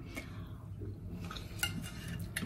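A knife or spatula scraping and tapping against a frying pan while a slice of potato, egg and onion omelette is cut, a few sharp metallic clicks over a low kitchen hum.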